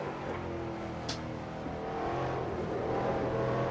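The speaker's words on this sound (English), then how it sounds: "Heavy braking and downshifting." Race car under heavy braking and downshifting, a dense mechanical roar that stays close and loud throughout with a brief high squeal partway in, with no voices.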